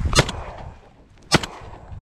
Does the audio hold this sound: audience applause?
no